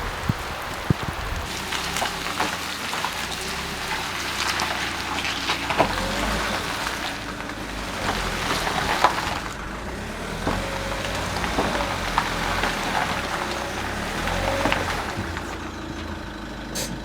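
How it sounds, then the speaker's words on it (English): Steady rain falls outside an old barn under renovation, a continuous close patter and hiss with scattered drip impacts and a low background rumble throughout. "it has decided to rain on me"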